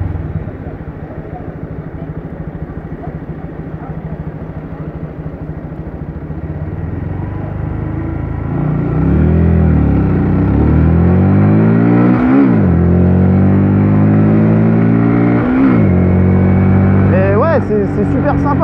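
Honda MSX 125 motorcycle engine revving and climbing through its gears, the rising pitch sweeps growing louder and repeating toward the end, with someone talking over parts of it.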